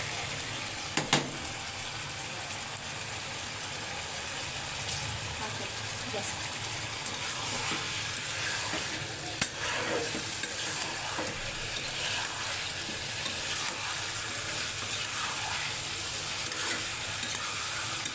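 Bean curry frying in a pan gives a steady, dense sizzle that runs throughout, with a few clattering stirs near the start and middle and voices talking faintly underneath.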